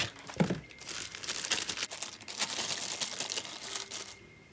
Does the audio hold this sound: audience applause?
no